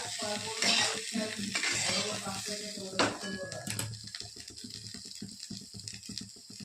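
Okra sizzles as it fries in a pan while a utensil stirs and scrapes it, close and steady, with a cook's voice talking over the cooking throughout.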